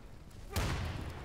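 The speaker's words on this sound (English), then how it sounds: "I'm throwing a frag." A frag grenade explodes in the Insurgency video game, a single muffled boom followed by a short rumbling decay over quiet background.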